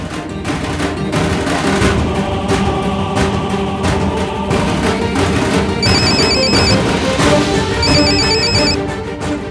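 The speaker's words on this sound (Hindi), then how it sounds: "और अब उसका फोन बजेगा।" A phone rings in a dramatic TV scene, its electronic ringtone repeating in two short bursts over loud, busy background music and effects.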